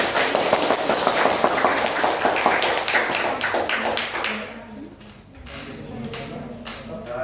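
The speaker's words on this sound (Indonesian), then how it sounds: "Tepuk tangan untuk Nicholas." A class gives a student brief applause during a lesson. Brisk clapping fills the first four seconds and then fades into scattered taps and quieter room sounds.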